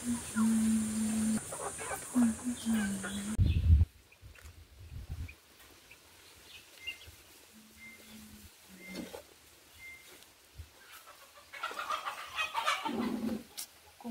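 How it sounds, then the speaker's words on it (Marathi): Chickens cluck and squawk over rustling outdoor noise, then it goes quieter with occasional faint calls before the clucking picks up again. "कोंबडी"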